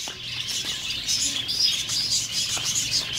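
Many birds chirping together at a farm, a dense, continuous twittering chorus at moderate distance, fairly loud and steady over faint outdoor background, no talking.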